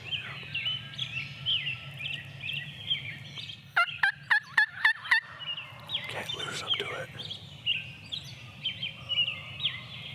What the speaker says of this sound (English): There's that hen calling again.